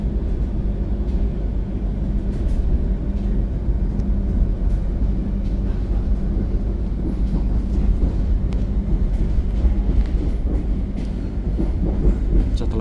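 The Pangandaran train from Gambir to Bandung rolls past Cikampek station with a steady, close, low rumble of the carriages, a continuous rattle of wheels on track and a constant drone throughout, no voices.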